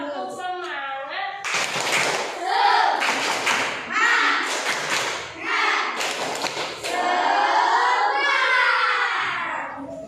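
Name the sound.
classroom rhythmic clapping (tepuk semangat)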